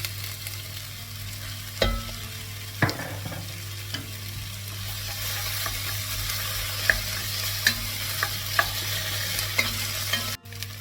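About a tablespoon of tomato puree frying in a pan for slow-cooked beef cheeks, giving a steady soft sizzle under a low kitchen hum, with occasional sharp clicks and scrapes of stirring and no talking.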